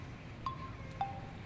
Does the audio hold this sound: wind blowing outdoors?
yes